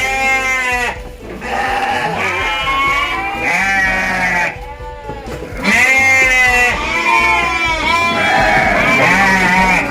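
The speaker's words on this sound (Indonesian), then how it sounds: "Ini Domba jantan di sini." Several sheep, including large rams, bleat loudly and repeatedly in a crowded pen, their calls overlapping in close, sustained bursts with brief gaps between.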